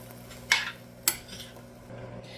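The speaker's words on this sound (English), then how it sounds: "add in our green beans that we were letting sit here. And we're going to mix them together" Green beans and potatoes get tossed together in a pan, with two sharp spoon-on-metal clanks and a soft scraping stir in between, close and fairly quiet over a low steady hum.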